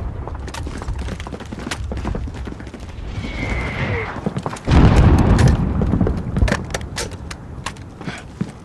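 Gunfire in the Call of Duty: Modern Warfare military shooter game: a string of sharp, crackling shots scattered throughout, with a heavy, loud burst of fire partway through.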